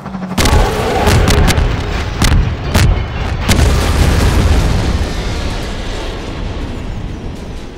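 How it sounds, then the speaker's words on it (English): A steerable rocket launcher replacing the RPG in a video game fires, and a series of heavy booming explosions with sharp bursts follows. The blasts are loud and close and trail off into a long rumbling decay. "This steerable Odessa Cubbage launcher is our best bet for taking down a gunship."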